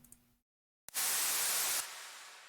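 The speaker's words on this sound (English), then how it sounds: "if you want to know how to make white noise on your own, take mini synth, put it on pulse, turn the noise all the way up" White noise effect built in FL Studio Mobile: a brief faint tone cuts out, then after a short silence a loud, broad static hiss bursts in, holds for about a second, and drops to a quieter sustained hiss.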